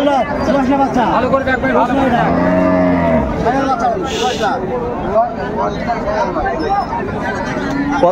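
A cow with her calf at a village cattle market in Raniganj lets out a long, loud, close moo, with people chatting and haggling around her the whole time.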